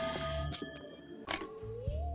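A telephone ringing inside the video game There Is No Game, a short electronic ring with tonal bursts over a steady game background, no talking.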